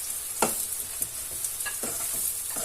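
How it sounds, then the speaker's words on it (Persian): Sausage frying with onions in a pan gives a constant bright sizzle, with a few soft stirring knocks close by and no voices. "اجازه میدیم که سوسیسمون همراه پیاز خوب سرخ شه"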